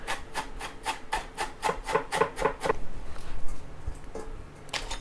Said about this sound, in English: Grating the ginger.